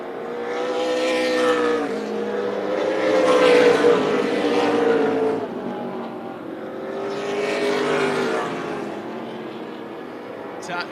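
Race cars roar past at Tucson Speedway, engines swelling and fading in two long loud passes as they run nose to nose down the back straightaway out of turn 2, with a commentator talking over the noise.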